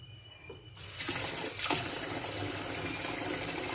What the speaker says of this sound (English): Just do a cup of water